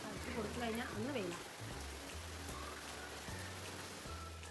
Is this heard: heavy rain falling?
yes